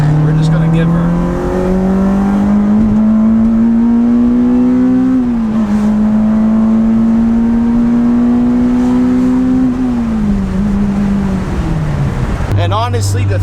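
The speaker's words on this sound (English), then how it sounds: "we're gonna see if we can get a third gear pull" A car with a Honda K20A engine pulls hard in third gear, its engine note climbing steadily in pitch over several seconds, easing briefly, then rising again before backing off, loud and close from inside the cabin.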